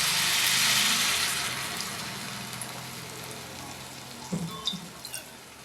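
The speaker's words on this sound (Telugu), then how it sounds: "ఇలా సరిపడా పులుసు వేసుకుందాం." Tamarind juice pours into a hot pan of eggplant curry, raising a loud broad sizzle that fades steadily, followed by a few soft stirring knocks near the end.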